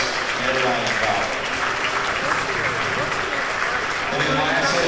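A crowd applauds steadily at a 4-H livestock show and sale at a county fair, with dense, continuous clapping and a voice speaking over it.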